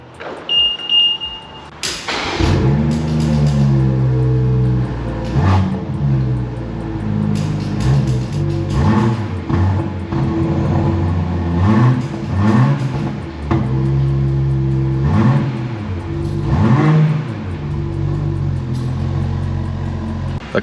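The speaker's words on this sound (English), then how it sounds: "fire it up for the first start." A BMW M340i G20 fitted with a new exhaust cranks and fires up after a brief starter whir, then settles into a loud, close idle with repeated throttle blips rising and falling throughout.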